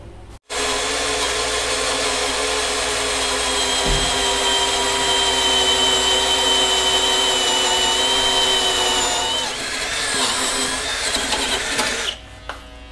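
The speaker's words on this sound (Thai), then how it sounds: "นี่ผมเจาะลงไปเดี๋ยวดูก่อนทะลุยัง" A Bosch GSB 185 18V cordless drill whines steadily as it bores through material, a loud continuous motor drone lasting over ten seconds with a slight pitch change near the end before it stops.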